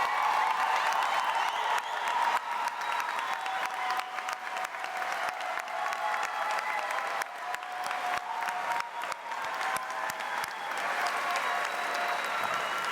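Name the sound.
audience applause for the graduating class of 2018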